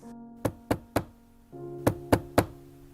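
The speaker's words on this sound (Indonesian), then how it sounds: "Suara ketukan itu masih berbunyi keras." Sharp knocking, used as a sound effect in a spoken horror story, comes in two bursts of three hollow raps, loud and close, with a short pause between the groups.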